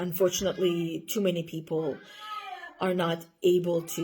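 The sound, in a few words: house cat meowing loudly at backyard wildlife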